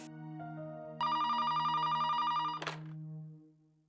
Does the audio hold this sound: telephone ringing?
yes